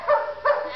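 A dog at a boarding kennel gives two quick close barks in succession, fairly loud and short, with no talking.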